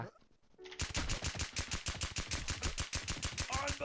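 Rapid automatic gunfire in a shooter video game: a dense, steady burst of evenly spaced shots running almost continuously after a brief quiet start, loud and close, with a short tonal game sound near the end.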